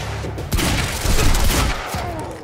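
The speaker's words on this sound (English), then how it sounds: "this heavy pistol's pissing me off" Heavy pistol firing in the video game Quantum Break, a rapid close volley of loud overlapping gunshots and impacts lasting a couple of seconds, with no talking.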